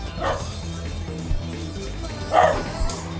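A dog barks a few times, short yips heard indoors over a steady background of music and game sounds, fairly faint and spaced apart.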